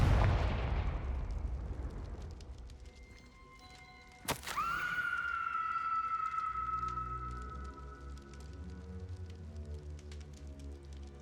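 The Confringo fire spell is cast in Hogwarts Legacy, a sharp blast followed by a ringing magical whoosh that fades over a low rumbling ambience.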